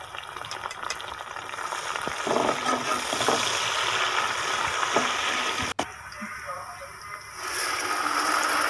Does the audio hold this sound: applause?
no